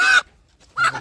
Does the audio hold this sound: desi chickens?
yes